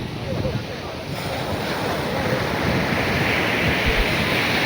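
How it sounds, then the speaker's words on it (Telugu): Surf rolling in steadily at Marina Beach in Chennai, a dense continuous wash of waves mixed with wind buffeting the microphone, loud and close throughout, with no one speaking. "ఇదే మన మెరీనా బీచ్."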